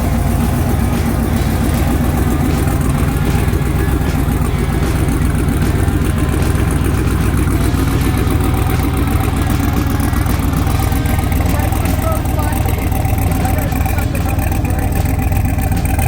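A car engine runs loud and steady on its first drive after a long rebuild, a continuous close drone with wind and road noise filling the whole stretch.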